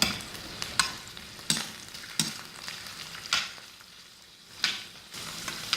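Shrimp fry in olive oil in a pan with a steady close sizzle, broken every second or so by sharp scraping and stirring clicks.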